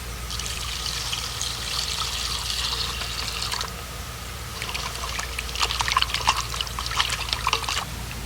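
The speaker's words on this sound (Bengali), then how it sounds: "এবার মাছগুলো ভালো করে ধুয়ে নেব" Koi fish washed in water in a village kitchen, a steady close pour and slosh that stops briefly, then returns as splashy, dripping rinsing with irregular trickles.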